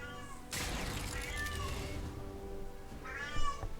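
A cat meows over a steady background of game music and effects, with a clear meow near the start and another, louder one toward the end; a narrator's voice runs faintly beneath.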